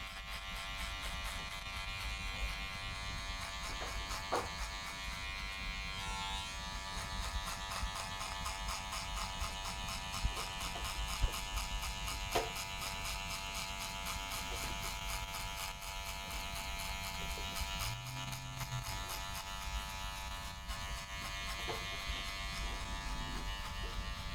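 Electric hair clippers with a number one guard and the lever open buzz steadily while cutting hair for a skin fade, a close continuous hum with small shifts as the blade moves through hair.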